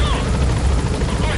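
A video-game helicopter thrums with a dense, loud rotor chop and engine roar, close and continuous, with a voice talking over it.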